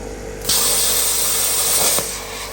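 A YesWelder FIRSTESS CT2050 plasma cutter cuts a circular hole in metal, a loud steady hiss of the arc that starts abruptly, runs about a second and a half, then cuts off, with faint hum before and after.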